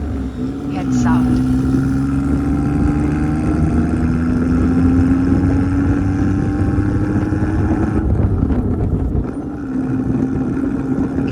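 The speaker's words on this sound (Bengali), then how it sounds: "এই গাড়িটার সাউন্ড কিরকম হতে পারে আপনি না শুনলে বুঝতেই পারবেন না আসলে এটার এক্সস্ট সাউন্ড কেমন হতে পারে।" A Bangkok street tuk-tuk engine runs loud and close, with a steady droning exhaust note that rises slowly in pitch as it accelerates, then dips and picks up again near the end, while a voice talks over it.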